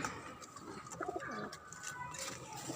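A pigeon coos softly a few times, low and throaty, against a background hiss of outdoor noise in a rooftop garden.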